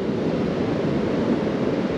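Mediterranean waves wash onto a sandy beach about fifty feet away, a steady, soft surf roar with light wind, continuous and unbroken, with no voices.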